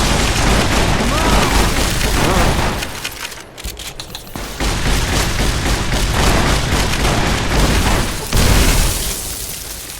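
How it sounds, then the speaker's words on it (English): Shotgun fire in the video game Fallout: New Vegas: heavy, repeated blasts during loud, continuous combat, with a short lull near the middle before the booming picks up again. "Time to go ham with the shotgun again."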